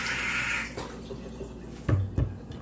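Running water pours from a tap as cut vegetables are rinsed, a steady hiss at first that then gives way to a few short splashes and knocks near the sink.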